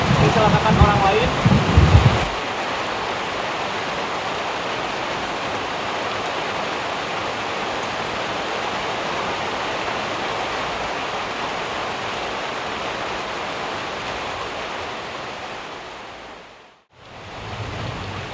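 Steady heavy rain pours down as a dense, continuous hiss during a thunderstorm, loud and close throughout, after a brief voice at the start and a short dip near the end.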